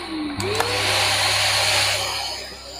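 A Rowenta vacuum cleaner runs steadily at close range with a smooth, fairly quiet motor whoosh and airflow hiss, starting up abruptly and holding an even drone throughout.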